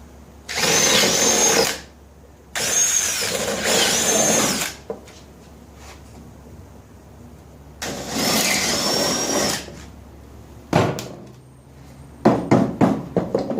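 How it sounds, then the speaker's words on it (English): A power drill with a 5/16 bit whines in three bursts of a couple of seconds each, close by, drilling holes for inserts, followed by some light clicks and handling noises. "let's drill those out"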